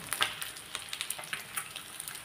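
Katla fish pieces frying in oil, a bright continuous sizzle with rapid crackling pops, moderately loud and close, no talking.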